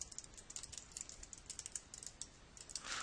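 Close, quiet clatter of a computer keyboard as a command is typed, with a steady run of light keystrokes and no voices.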